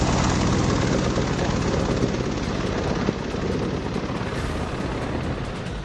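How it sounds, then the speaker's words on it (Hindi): Military helicopters such as the Chinook, Apache and MI-17 on patrol produce a steady, loud, broadband rotor and engine roar that holds without a break and with no voices. "MI-17 लड़ाकू हेलीकॉप्टर लगातार गश्त लगा रहे हैं।"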